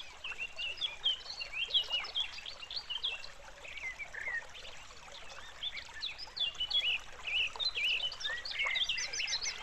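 Many birds chirp and trill continuously at a moderate distance, layered over a steady background trickle of flowing creek water.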